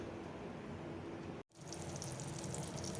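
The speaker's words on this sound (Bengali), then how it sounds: "পটলটা চলো ভেজে নেই" Sliced pointed gourd (potol) frying in a pan gives a steady, quiet sizzle and crackle of hot oil, briefly cut by a moment of silence before the hissing resumes.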